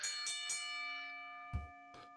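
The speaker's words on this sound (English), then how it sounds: "It was a bit soft, but I'm going to take that as the bell ringing." A bell rings out in a few quick struck dings that decay into a sustained metallic tone, fairly soft, followed by a couple of dull thumps.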